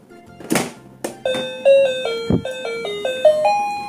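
A battery-powered toy piano plays a bright, electronic run of about a dozen notes, each one clear and sharp. A couple of louder clacks come between the notes.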